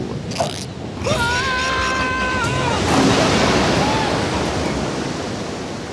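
A cartoon river floods in as rushing water, a loud broad swelling roar that builds and holds steady, opening with a creaking strain and overlaid by a high whistling tone and a brief vocal sound.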